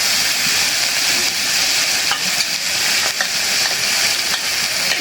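Shrimp frying in mustard oil with turmeric, chili powder, green chilies and onion, a steady close sizzle and hiss with faint stirring scrapes, no talk.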